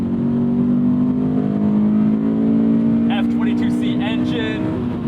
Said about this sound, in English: F22C engine.